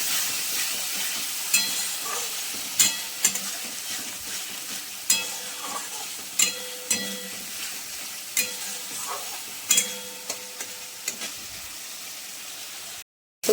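Spice paste for a prawn curry frying in oil in a pan, a continuous bright sizzle broken by regular scraping stirs of a spatula every second or so, close and fairly loud with no talking.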